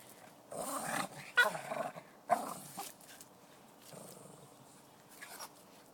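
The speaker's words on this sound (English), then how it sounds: "He growled at him." A dog growls in short, low bursts amid rustling and movement outdoors, with a deer nearby; the growls come in several uneven pulses of moderate loudness, with no talking.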